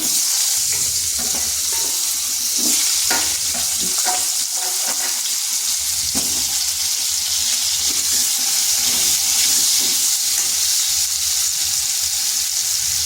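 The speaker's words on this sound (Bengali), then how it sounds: "ওই তেলের মধ্যে দিয়ে দিচ্ছি কেটে রাখা আলুগুলো" Cut potatoes frying in hot oil, a loud, dense sizzle with stirring and scraping mixed in, continuous and close for the whole stretch.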